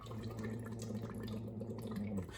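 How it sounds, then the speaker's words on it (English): Soft bubbling as someone blows through a straw into a cup of water, with a steady hum voiced through the straw, faint and close throughout. "I'm making sounds, I'm just blowing bubbles"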